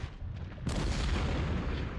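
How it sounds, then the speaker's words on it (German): Civil War cannon fire in the strategy game Ultimate General: Civil War: a sudden loud artillery blast breaks in after a low rumbling lull, then sustained booming roar from multiple guns fills the battlefield. "Kanone, Feuer."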